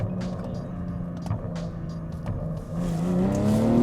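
A Stage 2 tuned 522 hp BMW M340i G20 idles with a low exhaust rumble, then swells into a louder, deeper drone as the throttle is blipped toward the end.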